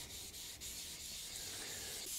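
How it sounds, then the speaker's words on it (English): A hard 3M sanding block flat-sands a guitar body in circular motions, a steady close scratchy rubbing with faint repeating strokes and no voices. "I've got a nice hard 3M sanding block, and I'm just going to start circular motion and just flat sand this body."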